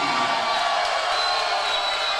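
Home crowd at an Elevate Fighting Championship event in League City, Texas, roaring and cheering steadily for a local fighter, a broad wash of crowd noise with no clear breaks.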